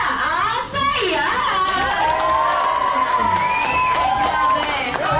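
A children's birthday party crowd claps, cheers and shouts loudly and continuously, with excited high voices and whoops close by, a host's voice briefly heard at the start.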